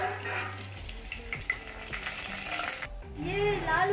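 Chicken frying with cloves, cardamom, bay leaf, chilli and cinnamon in a pan, a soft steady sizzle broken by the scrape and clatter of stirring, with a brief lull before the hiss rises again.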